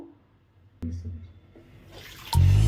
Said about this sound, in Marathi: पाण्याने शेगडे धुवून घेऊ यानंतर आपण कपड्याने पुसून काढू